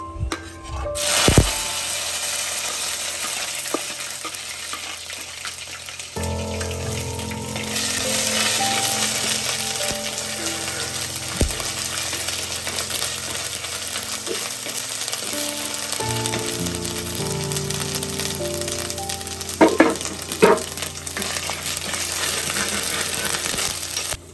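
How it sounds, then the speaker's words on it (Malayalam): Ginger paste, sliced garlic and green chillies frying in oil for a Kerala-style tuna curry, a steady loud sizzle running throughout with a few clinks and stirring scrapes, no voices. "ഇനി നമുക്ക് ഇതിനകത്തോട്ട് 1 ടീസ്പൂൺ ജിഞ്ചർ പേസ്റ്റും ഒരു 10 അല്ലി വെളുത്തുള്ളി നീളത്തിൽ മുറിച്ച് വെച്ചതും പിന്നെ 2 പച്ചമുളക് നീളത്തിൽ മുറിച്ച് വെച്ചതും കൂടി ഇതിനകത്തോട്ട് ഇട്ട് കൊടുക്കാം"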